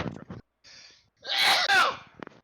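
A single loud, close sneeze with a sharp inhaled build-up followed by an explosive burst, preceded by brief speech and a faint breath, in an otherwise quiet room.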